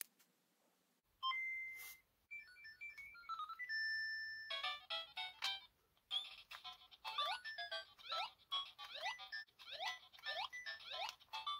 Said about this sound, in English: That's that classic Game Boy Pocket sound.